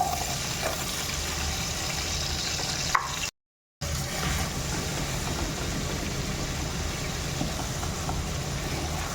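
Onion slices frying in oil with a little butter in a pan, a steady broadband sizzle holding evenly throughout with a brief dropout partway, no talking.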